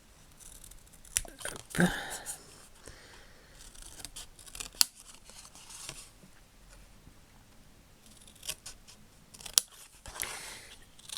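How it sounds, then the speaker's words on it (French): Scissors snip through scrapbook paper in a few close, crisp cuts with quiet pauses between them, and a voice briefly says a single word. "Donc, on va découper ça comme ça."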